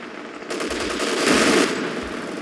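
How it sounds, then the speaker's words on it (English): Rapid .50 cal machine gun fire in Company of Heroes 2 rattles on as a dense, sustained stream, swelling louder near the middle of the short burst amid battlefield noise. "There's a 50 cal tearing into that building."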